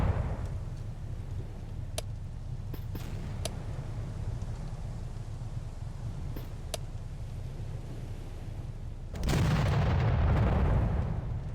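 Naval guns firing in the World War II game Victory At Sea Atlantic: a low rumbling battle bed broken by several sharp distant shot cracks, then a heavy, louder blast near the end.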